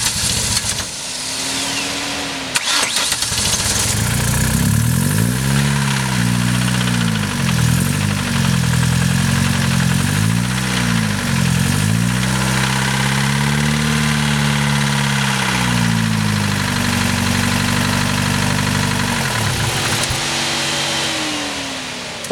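A Ford ZX2 car engine with a blown engine runs after being started, a loud close rumble that wavers and surges unevenly in pitch before settling into a rough idle, with no talking.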